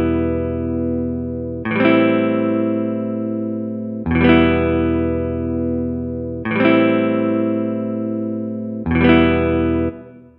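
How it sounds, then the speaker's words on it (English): Sampled guitar patch played in Kontakt with reverb added, four sustained chords struck about every two and a half seconds, each ringing out full and bright with a reverberant tail under the next strike. "Or a bit of reverb to bring it out a little."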